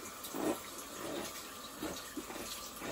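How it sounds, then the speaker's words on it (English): A shaving brush is rinsed under a running tap, a quiet continuous splash and trickle of water with a few louder gushes as the brush moves through the stream, close and without talking. "I'm just rinsing the brush"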